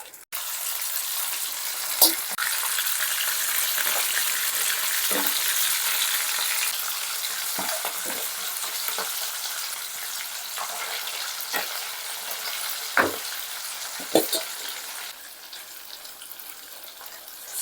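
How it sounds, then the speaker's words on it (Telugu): Chicken pieces are dropped one by one into hot oil for homemade chicken pickle, sizzling in a continuous bright hiss punctuated by occasional sharp crackles and pops. "ఆయిల్ హీట్ అయిన తర్వాత మనం విడివిడిగా చికెన్ వేసుకోవాలి."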